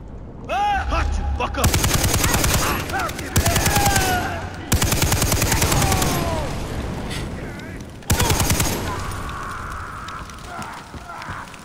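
Automatic machine gun fire in Far Cry 3 comes in loud, rapid bursts separated by short pauses, with crackling fire and other game effects between them.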